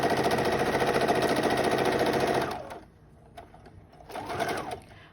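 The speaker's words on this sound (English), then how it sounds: "you begin by sewing over, take out the pin, and with 1/4 inch seam, sew all the way down." A sewing machine stitches a fabric face covering along a quarter-inch seam, running in a fast, steady whir for a couple of seconds, stopping, then starting again briefly.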